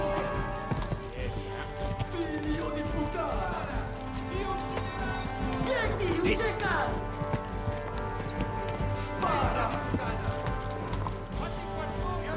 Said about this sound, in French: Et il court trop vite, son cheval.